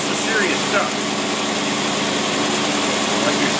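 An engine fitted with a large bore single barrel carburetor runs steadily at close range, a loud even drone throughout with someone talking over it.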